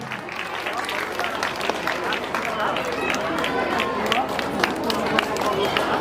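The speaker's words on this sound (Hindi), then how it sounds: "तालियां आप लोग बजाते रहें।" Steady, dense applause from a school audience at a foundation day celebration, continuous and fairly loud throughout, with crowd murmur mixed into the clapping.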